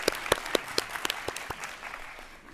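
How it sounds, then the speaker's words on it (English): An audience at a University of Pretoria human rights awards ceremony claps for the new graduates, distinct sharp individual claps ringing out near the start over a softer crowd patter that thins and fades toward the end. "So let us give a big round of applause to the new members of what we call the Pretoria Mafia Alumni Network."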